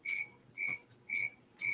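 Crickets being fed to pets chirp in four steady, evenly spaced bursts, each a bright, shrill pulse. The chirps sound faint and close, with no voices.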